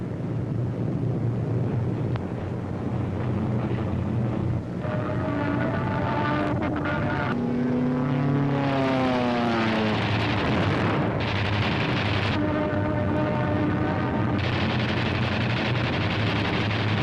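WWII heavy bombers and P-47 fighter aircraft engines roar continuously in a dense, loud rumble, with a droning pitch that sweeps downward as planes pass overhead, mixed with wind noise.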